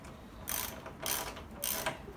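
A ratchet driving a 10mm socket loosens the plastic belt-guard bolts on a John Deere X155R ride-on mower, giving three short bursts of clicking spaced about half a second apart, close and fairly quiet.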